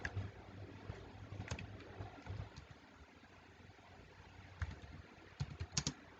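Typing on a computer keyboard during a spreadsheet exercise, with scattered soft key clicks and a few sharper taps in quick bursts, faint and close against a low steady hum, no talking.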